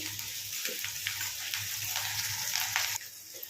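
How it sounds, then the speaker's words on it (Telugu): Ginger garlic paste and onion fry in a pan for brinjal curry, a steady hissing sizzle with faint crackles and a low background hum, easing slightly near the end. "అల్లం వెల్లుల్లి ఉల్లిపాయ మంచిగా ఫ్రై చేసుకోండి."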